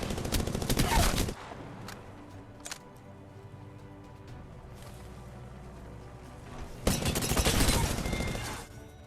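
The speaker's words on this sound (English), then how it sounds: "7 straight Kraber shots connected." Kraber sniper rifle in Apex Legends: two loud, dense bursts of game gunfire, one at the start and one near the end, with a sharp single crack between them over a low, steady background.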